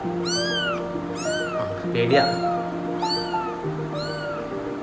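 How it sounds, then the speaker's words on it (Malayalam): Three kittens give several high, wavering meows at a steady pace, close by, while a person talks over them. "നല്ല 3 പൂച്ചക്കുട്ടികളുണ്ട്."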